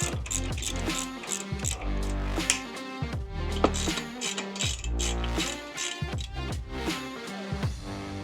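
A ratchet wrench works out axle bolts, its rapid pawl clicks running in quick bursts with brief pauses. The sound is close and loud throughout, with no talking.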